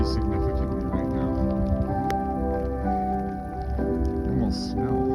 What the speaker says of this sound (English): It's raining pretty significantly right now.